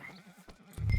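Horse in the video game Red Dead Redemption 2 giving a short, close whinny followed by a louder low snort or thud at the end.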